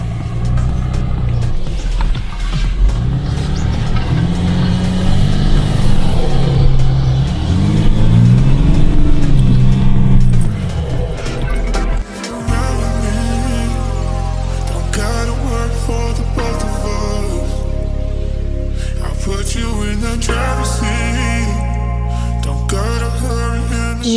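4WD vehicle engine pulling through thick sand in four-high, a loud close drone with shifting revs and a heavy low rumble that deepens and steadies midway.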